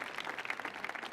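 An audience clapping at a live stage performance, a brief spatter of applause heard faint and a little distant, with no speech over it.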